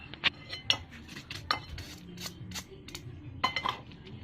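Century tuna sisig is stirred in a pan with a utensil, producing sharp metallic clinks and scrapes at an irregular pace over a soft sizzle, close and clear, with no talk.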